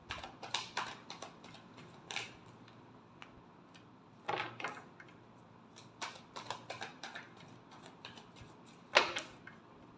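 Tarot cards are shuffled by hand in quick, soft riffling bursts with pauses between, close and fairly quiet, with no voice over them.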